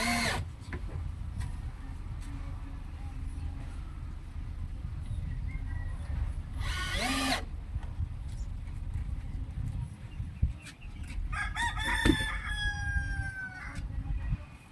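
A rooster crows twice at a distance over a steady low rumble and scattered clatter and taps nearby.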